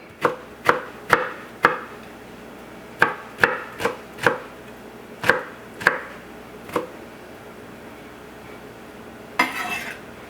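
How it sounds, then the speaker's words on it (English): Garlic cloves are chopped with a knife on a cutting board: sharp, distinct knocks come in irregular bursts, about a dozen in all, close and clear, ending with a brief scraping rustle. "I take them and I compress them to release all the juices in it, and I go ahead and chop them up."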